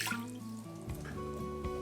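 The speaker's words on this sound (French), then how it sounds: "je commence par verser mon eau dans une casserole" Water pours steadily into a saucepan nearby, a continuous trickle with a rising tone as it fills.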